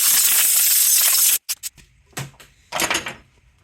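Bursts of compressed air blowing dirt off the engine of a water-damaged Honda CL90 motorcycle before cylinder removal: one long loud hiss, then several short sharp puffs and a final burst, close up.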